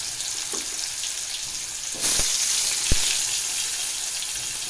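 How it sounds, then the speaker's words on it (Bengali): Chunks of sweet pumpkin sizzle steadily in hot oil, a continuous close crackling hiss with a couple of sharp utensil taps partway through. "কুমড়ো ভাজা খেতে ভালো লাগে।"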